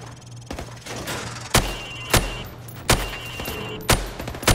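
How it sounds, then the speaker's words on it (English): Rifle hip-fire at targets on a shooting range in Call of Duty Modern Warfare Remastered: about five sharp, loud single shots at uneven intervals over a steady background hum. "Now, shoot at the targets while firing from the hip."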